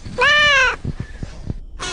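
A hypnotised person's voice imitates a cat with a long, drawn-out meow, then a few short throaty sounds and the start of another cry at the end.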